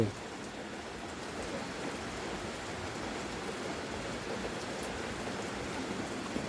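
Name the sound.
rain falling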